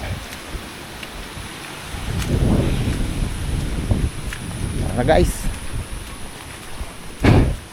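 Strong gusting wind and rain during Typhoon Kristine, a constant wash of rain with wind surging in heavy rumbling gusts several times, close and loud; a person speaks briefly over it.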